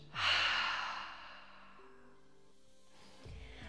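A deep, breathy exhale during yoga breathing starts strongly, then tapers off slowly over about three seconds, close to the microphone, with a soft low hum beneath.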